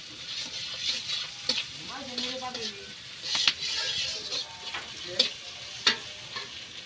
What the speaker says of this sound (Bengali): পেঁয়াজ মরিচ বাদামি রঙের হইলে তখন আবার ফুলকপি দিয়ে দিও